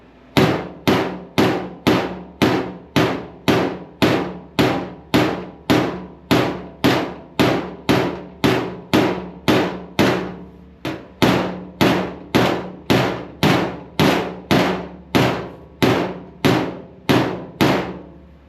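Hammer striking a high spot on a 1946 Ford hood, a steady run of sharp metallic blows at an even rhythm, close and loud, with a brief pause partway through.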